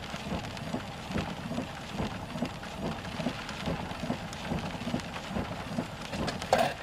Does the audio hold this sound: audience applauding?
no